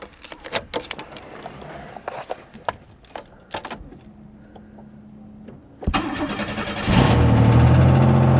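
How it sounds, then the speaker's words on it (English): A 1993 Chevrolet Cavalier engine is cold-started after some nearby clicks and handling noises: the starter cranks briefly, the engine catches with a rising roar, then settles into a loud, steady idle. "you ready to do a cold start?"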